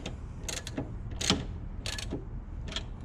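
Catch can fitting on a SHO being snugged by hand tool, giving several short ratcheting, clicking bursts with small gaps between them at close range over low background hum.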